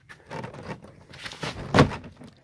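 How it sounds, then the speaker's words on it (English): The interior door panel of a 1999-2006 full-size GM pickup is pulled up and off, making scattered plastic scrapes and crinkling rustles that build to one sharp crackling pop near the end, close by. "You pull up on the door panel"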